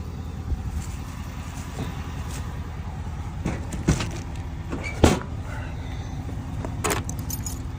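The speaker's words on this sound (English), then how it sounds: "Let's not forget my keys." Keys jangle in short metallic bursts near a parked plow truck and trailer after servicing, with a few louder clinks standing out over a steady low idle rumble.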